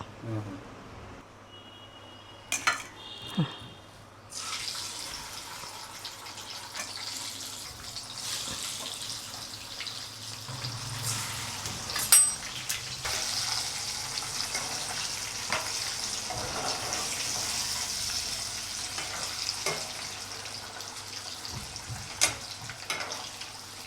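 Oil sizzles and crackles in a pan with eggs and dried prawns, a continuous frying hiss that swells partway through, with a few sharp clinks and knocks over it.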